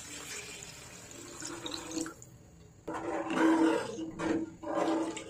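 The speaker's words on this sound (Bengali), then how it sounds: "ডাল কষানো হয়ে গেলে এর মধ্যে পানি দিয়ে দিব। গরম পানি দিয়ে দিচ্ছি।" Hot water is poured into a pot of sautéed lentils for a fish-head muri ghonto, heard as close gushing, splashing bursts that stop, pause and resume twice.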